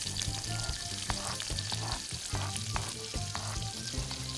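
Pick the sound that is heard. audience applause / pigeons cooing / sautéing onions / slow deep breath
sautéing onions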